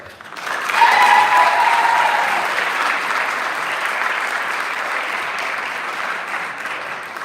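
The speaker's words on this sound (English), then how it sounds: "Thank you for the applause and for the opportunity." An audience at a college fraternity and sorority life awards ceremony claps steadily, loud from the start and easing slightly toward the end, with no talk over it.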